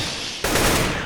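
Burst of gunfire in Counter-Strike: Global Offensive, a sharp loud onset followed by sustained dense crackling shots, no talking.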